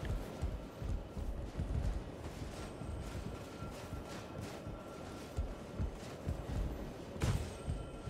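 A horse gallops in Elden Ring, with rapid rhythmic hoof thuds and clattering that run continuously at close range, punctuated by a sharp impact near the end.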